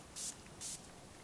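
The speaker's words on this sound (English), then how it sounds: "set it using the Urban Decay makeup setting spray" Two quick, hissing pumps of an Urban Decay makeup setting spray bottle, close and crisp, separated by a short pause.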